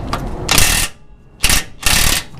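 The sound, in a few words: wrench breaking a bumper hitch bolt free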